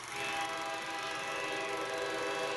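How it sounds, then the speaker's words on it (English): A train passes close by a home near a railroad track, with a steady rumbling roar and a sustained horn tone that holds loud and even from start to finish, and no one speaks. "A train!"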